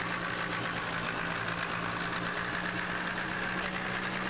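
A Ram rollback tow truck's engine idling in Farming Simulator 17, a steady low rumble with a faint knocking texture, constant and alone throughout without pauses.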